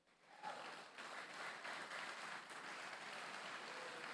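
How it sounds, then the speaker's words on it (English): A crowd at an esports grand final applauds steadily, a dense wash of clapping that rises quickly and holds at a moderate distance. "Give applause to them."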